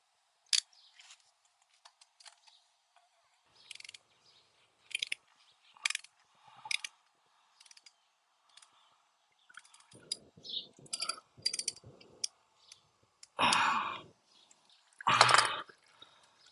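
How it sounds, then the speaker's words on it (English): Universal filter wrench working on the oil filter of a Yamaha R7 motorcycle: scattered sharp clicks and ratcheting metallic snaps, close and fairly quiet, with two louder rasping bursts near the end. "I do have this one, which is a universal filter wrench."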